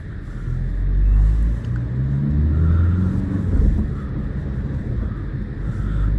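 A 2018 Dacia Duster with the 1.5 dCi diesel engine accelerating on the road, heard from inside as a loud, low rumble that swells and shifts through the revs, with some wind noise.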